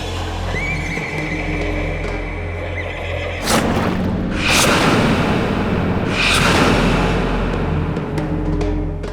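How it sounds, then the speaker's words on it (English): Two loud, drawn-out horse whinnies ring out a few seconds apart over steady outdoor rumble and background noise. "He says it's almost as if the horses are crying because the pain is so bad."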